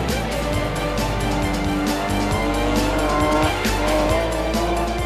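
Renault Clio rallycross cars race on a muddy track in the 1998 French championship, engines roaring loud and continuous with tyres squealing and skidding as the pack charges through a corner.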